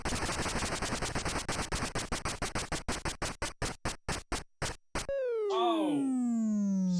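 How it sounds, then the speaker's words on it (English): The bankrupt sound from a Wheel of Fortune video game opens with a rapid clicking run that slows to widely spaced ticks, then ends in a loud descending electronic tone, with no talking. "Nice bankrupt sound, though."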